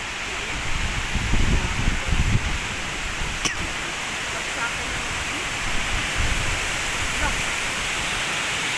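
Strong gusting wind roars steadily outdoors during a typhoon, with coconut trees nearby, a broadband rushing blast with louder surges; people talk under it.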